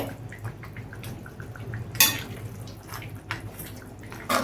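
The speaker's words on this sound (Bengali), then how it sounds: "আলুটা দেখো ঝোলের মধ্যে ফুটছে" Soft bubbling and popping of a Bengali katla fish head curry with potatoes simmering in a pot, with a few sharp metallic clinks of a utensil against the pan.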